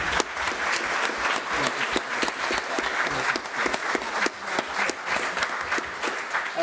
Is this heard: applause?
yes